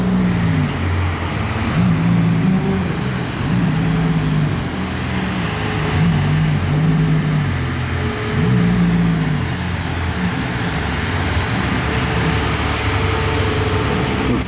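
Ferrari Daytona SP3 pulling out, a loud close engine rumble that rises and falls in rhythmic revving surges before settling into a steadier drone amid road noise.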